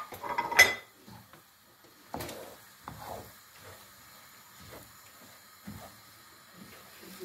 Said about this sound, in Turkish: Sürekli karıştırarak kavuruyoruz